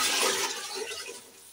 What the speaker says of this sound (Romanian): O să mai pun un pic de apă.